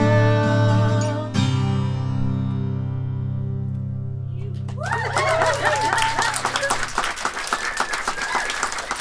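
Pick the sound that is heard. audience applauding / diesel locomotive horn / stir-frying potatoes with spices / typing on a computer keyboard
audience applauding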